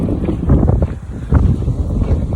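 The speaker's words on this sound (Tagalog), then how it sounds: "Yan, lakas ng hangin" Strong gusty wind roars steadily through trees, buffeting loudly with rushing low rumble and swells throughout, no voices.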